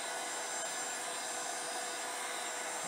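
A heat tool blows steadily over a resin sculpture bowl, giving a constant loud airy whoosh without breaks, alone with no voices.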